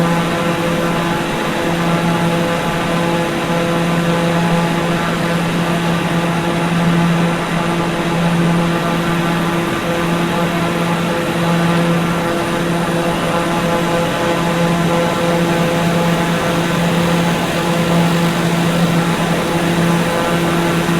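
Steady propeller aircraft engine drone during a snow landing in Microsoft Flight Simulator 2020, a loud continuous tonal hum with an even pitch throughout and no talking.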